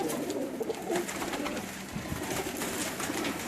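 A pigeon coos steadily over a soft background of rustling and low noise, the throaty calls repeating close by for a few seconds.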